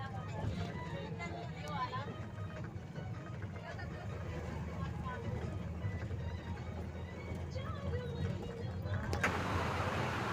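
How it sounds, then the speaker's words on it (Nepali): A noisy moving bus carries many passengers, giving a continuous rumbling engine and road drone under overlapping chatter and babble throughout. "बसमा हिँड्दैछु म बसमा एकदम हल्ला हुँदैछ"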